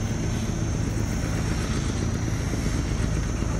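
A large cargo barge overtaking on a Mekong Delta waterway, its engine roaring in a loud, steady, close drone with no break across the whole stretch.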